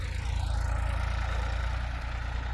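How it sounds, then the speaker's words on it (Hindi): A Massey Ferguson 244 4x4 tractor runs steadily in a potato field with a low, continuous engine rumble, moderately loud and without talk. "एक बार और ट्रैक्टर को आ जाने दो"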